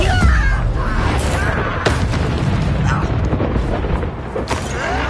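Confringo fire-blast spell in Hogwarts Legacy on PS5, a dense run of booming blasts and crackling bursts with sharp impacts near 1.8 and 4.5 seconds over constant game noise, loud throughout.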